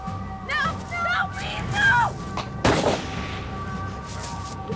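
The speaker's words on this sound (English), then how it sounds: "And then there was just a lot of shooting." A chaotic burst of many gunshots during a massacre in Norway, loud cracks among shouting voices and a dense background of noise, with a heavy blast near the middle.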